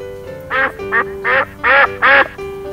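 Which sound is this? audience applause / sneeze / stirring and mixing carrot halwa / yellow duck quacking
yellow duck quacking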